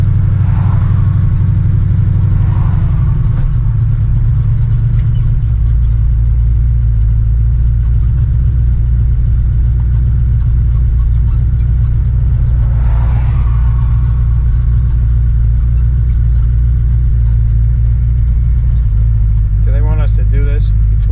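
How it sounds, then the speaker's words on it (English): Great Race car #151 accelerating from a standstill to 45 mph, a steady low engine rumble that holds strong throughout with gear-change surges, recorded close from inside or beside the car, with people talking over it. "to get an average of how long it takes to accelerate from 0 to 45 miles an hour"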